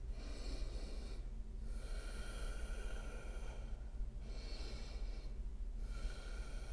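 Slow, deep breathing during an energizing total body yoga session: soft, airy inhales and exhales, faint and close, repeating in an even cycle of roughly two to three seconds.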